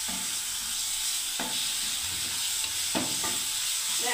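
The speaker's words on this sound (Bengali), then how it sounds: "দেখুন বন্ধুরা হয়ে গেলে এবার আমি মটরটা দিয়ে দিচ্ছি বন্ধুরা।" Peas tumble into a pan of sizzling spiced gravy for a matar chaat, bringing a steady frying hiss with a couple of sharp stirring scrapes and clatters, close up, with no talking.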